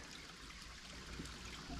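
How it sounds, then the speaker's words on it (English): Water trickles and runs around a stone wall beside a hiking trail in Northwest Pennsylvania, a faint, steady outdoor flow with no voices. "The water running around it."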